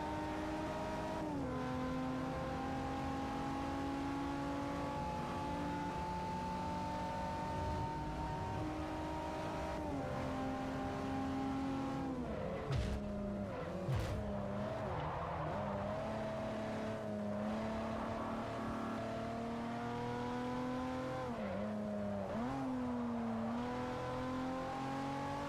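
Truck engine racing in Forza Motorsport 4, a steady loud engine drone with sustained revving that shifts pitch through gear changes, dipping and climbing again around the halfway point, with no talk over it.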